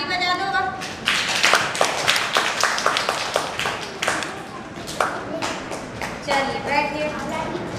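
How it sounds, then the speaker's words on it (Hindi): Children clap their hands in a classroom, producing a ragged burst of sharp, uneven claps that thins out and then picks up again. Voices chatter faintly underneath. "ठीक है, ताली बजा दो।"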